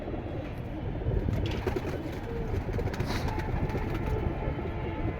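Pigeons in a collection of breeding pairs coo softly and continuously, layered over a steady low background murmur with no clear talk.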